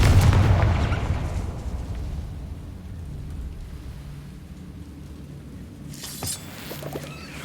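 The Confringo fire spell explodes in the video game Hogwarts Legacy with a loud, booming blast at the start. A long rumbling roar follows and slowly fades, then a few faint crackles come near the end.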